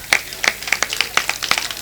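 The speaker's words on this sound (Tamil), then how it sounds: "ஆண் பெண் என்கிற பேதம் இல்லாம எல்லாரும் கைதட்டினீங்களே" An audience in a hall at a Tamil speech event clapping, a brief burst of quick, close, irregular hand claps.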